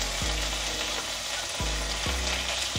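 Ginger and green chili paste sizzles steadily in hot oil for a vegetarian potato and pointed gourd curry, a dense close crackle with a few low scraping strokes from a spoon.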